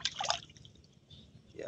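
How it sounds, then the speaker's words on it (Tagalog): Water trickles and splashes into a container holding hybrid rice seedlings, a close, bubbly pouring burst at the start that fades to faint dribbling before rising again. "Pumasok na yung tubig."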